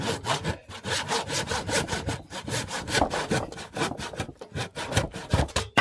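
Rhythmic rasping strokes of a power saw cutting through wood, fast and close, repeating steadily without pause.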